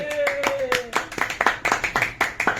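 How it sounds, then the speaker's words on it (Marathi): A small group of friends on a beach trip at Kihim, Alibag clapping for three of their friends, with a burst of close, sharp hand claps in a quick, uneven rhythm while a voice talks at the start. "तिघांसाठी टाळ्या वाजवा रे"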